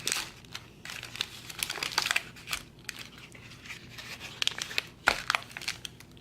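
Plastic packaging around transmission bushings from a TH350 rebuild kit is crinkled and torn open close by, with irregular bursts of crackling and crumpling throughout.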